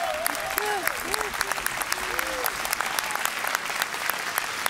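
Audience applause at a live Serbian folk music competition final, dense steady clapping from a crowd throughout, with voices talking and calling out over it.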